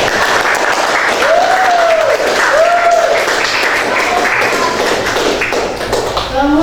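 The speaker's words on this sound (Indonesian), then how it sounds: "Kita beri aplaus dulu untuk Sisya dan Samkan." A classroom of students claps for two classmates, Sisya and Samkan, a dense, steady patter of hands lasting several seconds, with children's voices rising over it.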